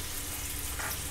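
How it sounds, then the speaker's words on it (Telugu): Ginger garlic paste hits hot oil in a pan of Telangana fish curry (chepala pulusu) and sizzles with a steady, faint hiss that holds through the whole moment. There is no talking. "నెక్స్ట్ అల్లం వెల్లుల్లి పేస్ట్ వేస్తున్నాను"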